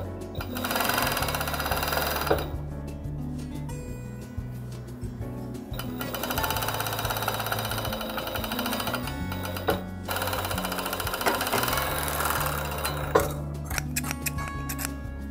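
An overlock serger stitches a fabric seam on an embroidered kerchief, its motor whirring in long continuous runs with brief pauses and restarts, loud and close, no talk.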